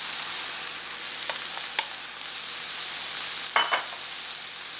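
Celery and onions sizzle steadily in a hot pan of chicken stir fry with ginger and broccoli. A continuous hiss runs throughout, with a few faint clinks and scrapes from stirring.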